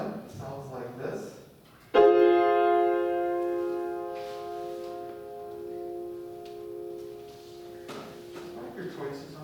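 A single sustained triad chord rings out for ear-training identification in an aural skills class, struck sharply and left to decay slowly over several seconds, following a brief stretch of speech.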